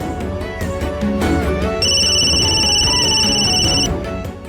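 A mobile phone rings with a bright, steady electronic tone that starts partway through and holds for about two seconds over a busy bed of music and background sound.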